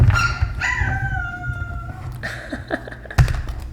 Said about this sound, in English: He's howling. I'm surprised. I've never heard him howl before.